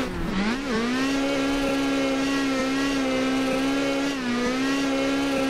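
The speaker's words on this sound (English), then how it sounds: "One final run here for today's episode in the Polo Rally Car Drift Car project." A Volkswagen Polo rally car built for drifting holds a loud, steady high-revving engine drone throughout, with small dips and rises in pitch as it slides.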